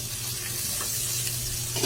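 Garlic and onion sizzle in hot oil for spare-rib kaldereta, a steady close frying hiss with soft stirring underneath and no talking.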